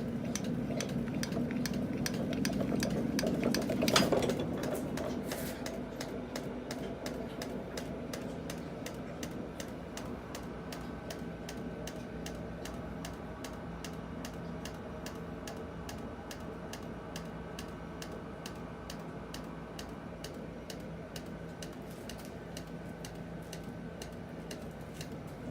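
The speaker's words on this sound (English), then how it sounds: "It's a heavy wheel, so it takes me a little getting used to getting it spinning fast." A heavy wheel spinning freely on a bare shaft, a steady fast ticking rattle that runs throughout after a louder rumbling start, close and fairly quiet.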